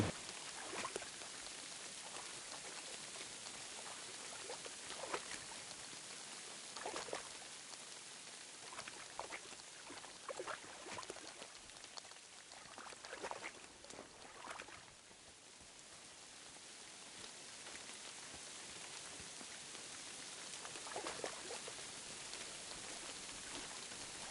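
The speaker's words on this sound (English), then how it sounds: "The fucking rain is too bad." Heavy rain in the video game Kingdom Come: Deliverance II, a steady hiss of falling rain with scattered sharper drop splashes throughout, moderately quiet and without speech.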